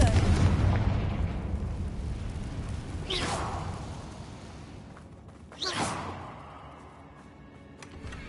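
Confringo fire spell cast in the video game Hogwarts Legacy, heard as two loud whooshing blasts a few seconds apart over a rumbling game soundscape.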